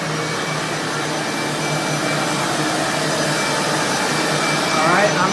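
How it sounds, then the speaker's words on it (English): Commercial air movers run continuously inside a water-damaged commercial building, their steady, loud, broadband roar filling the space without a break. "we strategically place our air movement to create a vortex for effective drying purposes"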